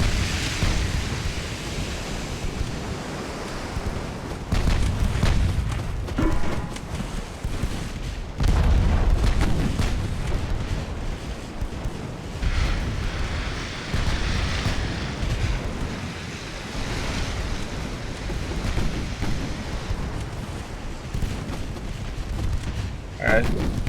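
Naval gunfire in the warship strategy game Ultimate Admiral: heavy booms and rumbling artillery blasts roll through a dense, noisy battle soundscape, with a voice talking over parts of it.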